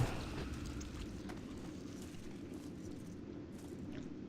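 A Death Knight corpse explosion in World of Warcraft, a deep rumbling boom that starts abruptly and settles into a steady low roar, fading slightly over several seconds.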